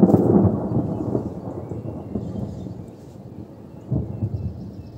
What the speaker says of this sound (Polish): jeszcze słyszycie, że grzmi